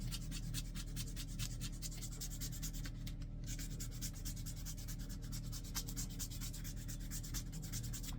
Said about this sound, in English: I'm hitting it with the rough sandpaper